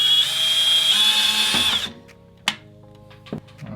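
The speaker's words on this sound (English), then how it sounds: "So I'm going to drill a hole that's the same diameter of my headphone jack wire" A power drill whines loudly and steadily as it bores a hole through a plastic X-Shot toy blaster, then stops, followed by a few sharp clicks and knocks of handling.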